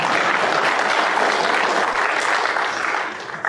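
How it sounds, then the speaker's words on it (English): Steady, dense audience applause at a speech fills a few seconds, loud and close, thinning slightly toward the end. "As Jeb Bush would say, please clap."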